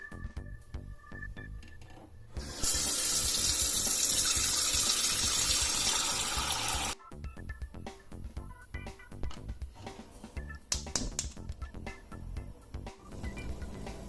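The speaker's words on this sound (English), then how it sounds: "So first, we'll need some water to boil spaghetti." A kitchen tap gushes steadily for several seconds, filling a pot with water for boiling spaghetti, framed by quieter clinks and handling sounds before and after.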